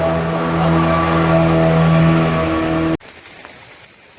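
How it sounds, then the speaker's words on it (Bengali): A speedboat engine heard from up on a bridge gives a loud, steady, droning motor hum with a clear tonal whine, which cuts off abruptly to quiet outdoor ambience. "ব্রিজের উপর থেকে স্পিড বোটটা ধরছি"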